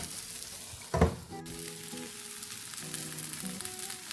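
Tortang talong, an eggplant omelette with tomato and eggs, sizzling in a frying pan; a soft steady fry with a sharp clank near the start and a faint hum over the sizzle.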